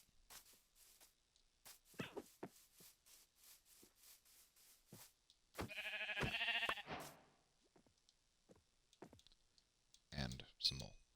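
Sheep bleating in the Minecraft video game, a short synthetic bleat amid bursts of rapid clicking, a louder stretch of layered game noise midway and more clicks near the end, with no talk.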